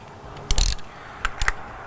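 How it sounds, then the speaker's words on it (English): Metallic clicking and grinding as a crank bolt is turned to press a front crank seal driver into a Duramax engine, two short bursts of close mechanical clatter. "I like to press it in using the crank bolt, or the harmonic balancer bolt"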